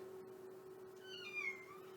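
A cat named Luna lets out a single drawn-out meow, faint and slightly distant, over a steady low hum.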